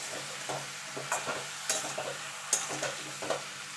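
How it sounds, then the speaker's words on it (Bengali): Chopped vegetables and a pinch of salt being stirred in a hot frying pan, a steady soft sizzle broken by repeated scraping strokes of the spoon against the pan, close and moderately quiet with no voices. "দিয়ে ভালো করে নেড়ে নেবো"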